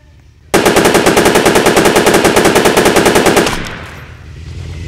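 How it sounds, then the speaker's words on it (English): Rapid automatic gunfire in the Roblox video game: a loud, steady stream of evenly spaced shots lasting about three seconds, then breaking off into a fading tail with no talking. "I just saw someone and I'm shooting."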